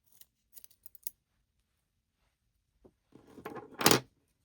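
Scissors trimming crochet yarn ends on a hanging house plant holder: a few quick, light snips, then a pause and a louder, longer cut close by in a quiet room.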